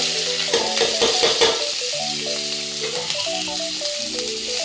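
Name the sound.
onions frying in oil in a wok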